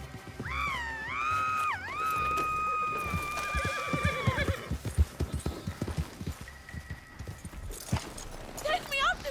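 In the Red Dead Redemption 2 video game, a horse whinnies loudly and then its hooves clip-clop in a steady trotting rhythm, with a voice speaking over the hoofbeats.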